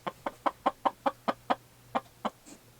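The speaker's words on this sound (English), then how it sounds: "let's take out the few vegetable scraps to the hens. They're out free roaming today." Free-roaming hens cluck in a steady run of about ten short, evenly spaced calls, fairly close and clear over a faint low hum, with no talking.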